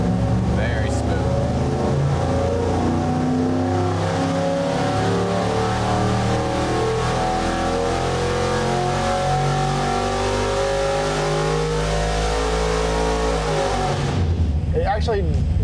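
An old-school Ford 302 V8 revs under load on an engine dyno, a loud, sustained mid-low roar with harmonic bands that ends abruptly near the close as it winds down.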